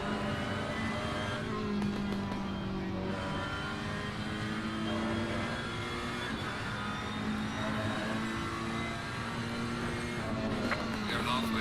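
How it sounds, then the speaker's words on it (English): Ferrari GT race car engine heard onboard during a lap at Laguna Seca in the Assetto Corsa Competizione video game, a steady high-pitched engine drone rising and falling through shifts, fairly quiet throughout. "Let's just go on board for a lap with the Ferrari, which is still a bit weird sounding"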